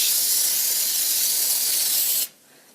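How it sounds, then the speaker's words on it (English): Spray starch hisses onto a crocheted snowflake in one long, close, steady burst that stops abruptly, leaving near silence. "So I'm going to go ahead and start spraying it."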